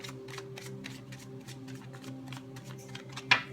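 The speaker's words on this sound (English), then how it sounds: "and a third shuffle." Tarot cards shuffled by hand in a rhythmic series of brisk papery slides and flicks, regularly spaced and close, over a faint constant hum, ending with one sharper tap.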